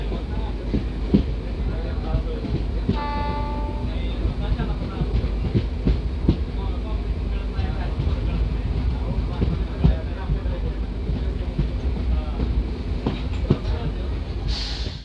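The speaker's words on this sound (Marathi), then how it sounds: "जत रोडवरती क्रॉसिंग होत आहे एका टँकर फ्रेट ट्रेनसोबत" At Jat Road station, a passenger train passes a tanker freight train, a continuous loud rolling rumble with clickety-clack of wheels on rail joints and a brief squeal early on.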